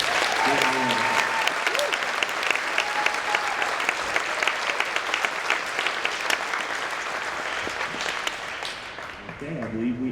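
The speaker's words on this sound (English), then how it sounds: "let's just have one more round of applause for these amazing kids" Middle school spring concert audience applauding the school band students: dense, sustained clapping from a full room for about nine seconds, then fading out as a voice begins to speak.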